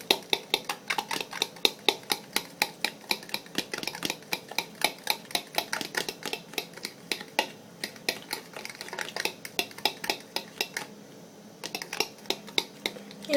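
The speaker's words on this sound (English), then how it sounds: "I just broke the egg. Alright, so now I'm just going to mix it up with the fork." A fork beats a freshly cracked raw egg in a bowl, making a steady run of quick metallic clicks and taps against the bowl's side, close and distinct, pausing briefly before resuming.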